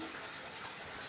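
A small splash of water pours into a cooking pan so that ground spices will not burn, a steady, soft hissing gush that continues without pause.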